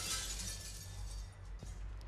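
Objects shattering in the video game Mass Effect: a continuous glassy breaking crash with bright crackle fills the whole moment, fairly loud over a low game rumble, with a brief sharper hit near the end.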